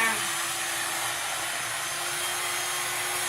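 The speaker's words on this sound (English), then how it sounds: "doesn't matter if it's an expensive blow dryer or a cheap one, they're all the same" A blow dryer runs steadily during a layered haircut and styling session, giving a loud continuous airy whoosh with a faint motor hum beneath it and no change in level.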